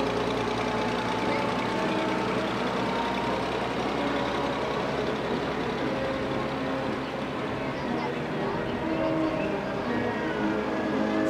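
A low, rumbling old tractor engine runs steadily throughout amid an outdoor parade crowd at a county fair, with indistinct talk and background noise blending in.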